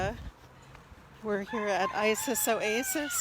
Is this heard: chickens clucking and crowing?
yes